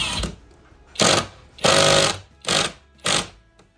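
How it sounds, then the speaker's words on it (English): Power drill driving a screw at an angle into wood while toe screwing on a home addition build, heard as five loud whirring bursts separated by short pauses, close by with no talking. "So what you're doing is called toe screwing. You're doing it at an angle."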